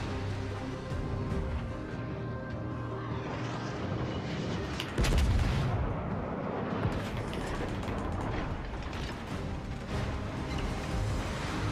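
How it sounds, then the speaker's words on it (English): Naval gunfire and explosions in the World of Warships: Legends battle, with the T8 Agir warship in play, heard as a dense continuous roar of blasts, with a louder close burst midway. "Is he still shooting at me when he can't see me?"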